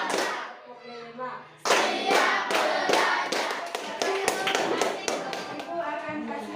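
Schoolchildren in an Indonesian classroom clapping a rhythm together, a quick run of sharp, loud, fairly even hand claps following a teacher's voice at the start.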